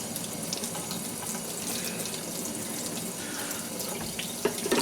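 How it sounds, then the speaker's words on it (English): Tap water running steadily into a sink while a glass jar is rinsed of label adhesive residue, a close continuous splashing hiss with a brief clink near the end. "Then you rinse it all off."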